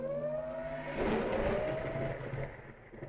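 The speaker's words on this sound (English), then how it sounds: "That siren, by the way, you just heard, that basically indicates that there's an enemy ship basically entering the system" A wailing warning siren in the space game Endless Sky, signalling an enemy ship entering the system, with a slowly rising and falling tone over a low rumble, steady and fairly loud, with no voices.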